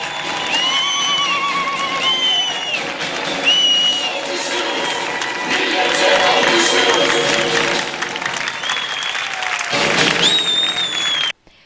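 A crowd at a CHP political rally applauds steadily for several seconds, and bursts of high, trilling ululation rise above the clapping again and again, loud and close, before the sound cuts off abruptly.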